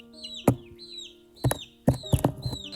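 Young chicks peep in short high chirps while sharp knocking pecks strike a cardboard wall in irregular clusters, close by and fairly quiet.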